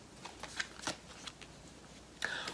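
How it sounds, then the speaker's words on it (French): A tarot card is turned over and handled, making a few quick, soft papery flicks and slides close by, ending in a slightly louder rustle. "Je vais tourner la carte ensuite."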